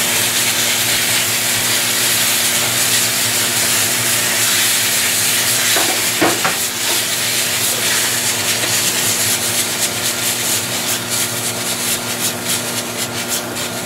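Tomato-style sauce for meatless spaghetti sizzles and spatters in a ceramic pan over lowered heat, a steady loud frying hiss with a few scraping stirs partway through.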